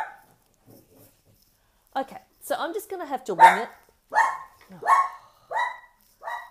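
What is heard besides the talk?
dog barking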